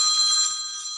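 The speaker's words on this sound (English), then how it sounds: "it looks like we have a call" A telephone bell rings in one bright, sustained metallic trill, close and fairly loud, fading slightly toward the end, with no voices.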